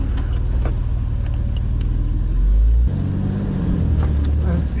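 Tank or dozer engine surging unevenly as its transmission acts up, a low rumbling drone that swells and drops, with people talking over it.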